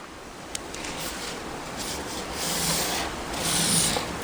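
A line is marked across dress fabric for tailoring, producing a steady, close, scratchy rubbing that swells in a few longer strokes.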